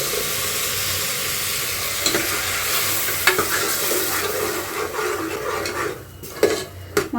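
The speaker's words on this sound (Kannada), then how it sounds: "ಮಸಾಲೆನ ಹಾಕ್ಕೊಂಡು ಚೆನ್ನಾಗಿ ತಿರುಗ್ಕೊತೀನಿ ಒಂದ್ಸತಿ" Ground masala for chickpea sambar frying and being stirred in a pan, a close, continuous sizzle under steady scraping stirs, with a few sharp clinks of utensil against pan near the end and no talking.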